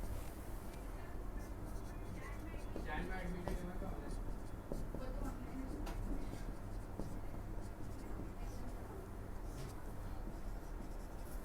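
Chalk or marker scratching on a board during a math lecture on definite integration, steady faint strokes running beneath continuous talk from the lecturer, with a low hum in the room.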